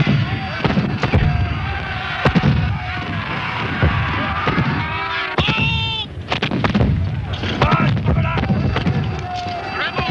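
Cannon fire from a docu-drama of the Battle of Culloden, with repeated sharp blasts and thuds over a busy outdoor battlefield, loud and close, with shouting voices in between.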